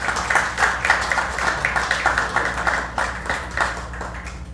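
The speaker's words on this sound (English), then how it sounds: "Let's give him a round of applause" An audience at a memoir book launch claps in a steady patter of many hands, moderately loud and even, with a low background hum.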